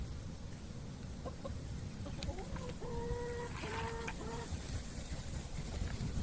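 Chickens cluck and chatter nearby while feeding on a large yellow jacket nest, with soft repeated clucks over a steady background hiss.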